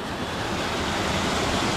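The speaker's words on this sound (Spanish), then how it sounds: "Vean que aquí hay otra cascada." Rushing water from a small waterfall in a hot river in the Bosque de la Primavera forest, Mexico, a steady broadband roar that continues unbroken and fairly loud throughout.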